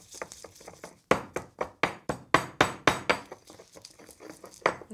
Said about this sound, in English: Now 2 fillets of anchovies, and again we're just going to pound it together.